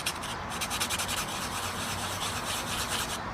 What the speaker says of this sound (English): I'm taking sandpaper